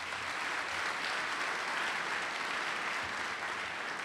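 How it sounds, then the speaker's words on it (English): An audience at a university presidential inauguration ceremony claps in a steady, even wash of applause that holds for several seconds, moderately distant and without speech over it. "Please give him an applause."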